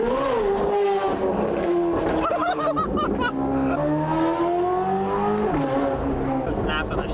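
A bone-stock Chevrolet Corvette C8 Z06 sounds off on overrun, a loud, close engine note sliding down in pitch with crackles and pops, under bursts of excited talk.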